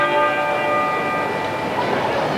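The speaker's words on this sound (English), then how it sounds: "We're hearing the tenor bell from Westminster Abbey toll half muffled every minute during the procession." The half-muffled tenor bell of Westminster Abbey rings out during a funeral procession, its sustained tone and ringing partials hanging steadily over a dull outdoor background, with faint murmur beneath.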